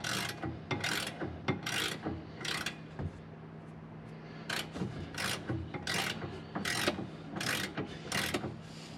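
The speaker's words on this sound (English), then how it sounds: "While I'm wrenching on this" A ratchet wrench tightening sway bar bolts on a Tesla Model 3 Performance, with rapid clicking ratchet strokes in repeated bursts, a pause midway, then more steady cranking, close and clear with no talk.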